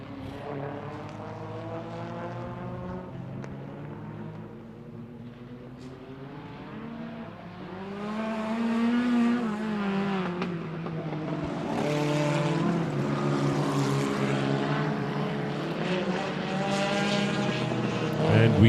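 Border stockcars racing on a track, a pack of engines droning steadily and then rising in pitch as they accelerate, loud and continuous with overlapping revs throughout.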